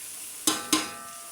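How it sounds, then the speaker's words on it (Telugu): Bokari cooking in a pan, with a steady frying hiss under two sharp utensil scrapes or stirs close together near the middle. "ఈరోజు వచ్చి బొకారీ వండుతున్నాను"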